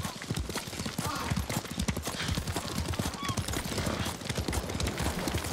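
Steady, rapid clip-clopping of horse hooves in Ghost of Tsushima, close and continuous, with a faint whinny now and then.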